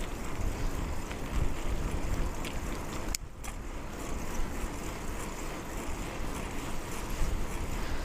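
Wind rushes steadily past the microphone while cycling outdoors, a loud continuous buffeting roar with a brief dip partway through.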